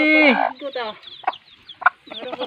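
Backyard chickens, including young chicks being raised, clucking and calling close by in several short bursts, with a brief louder squawk near the end.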